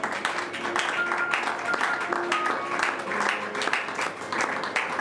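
Church congregation applauding and cheering at an evening French-language worship service, a dense, steady wash of clapping that fills the whole span at moderate loudness, with faint voices mixed in.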